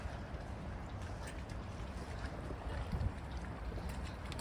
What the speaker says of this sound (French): On est sur un bateau